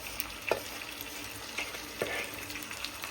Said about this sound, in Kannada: ಹಂಗಾಗಿ ಇದು ಸ್ವಲ್ಪ ಎಣ್ಣೆಗ ಕುದಿಯಕ್ಕೆ ಬಿಡ್ಬೇಕು.